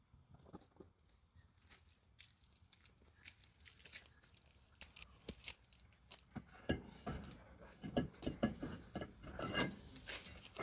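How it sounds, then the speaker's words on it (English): Rear brake pads for a Subaru Forester being scuffed up during a brake replacement, a close, scratchy rubbing rasp in irregular strokes that grows louder and busier toward the end. "Scuff up our brake pads."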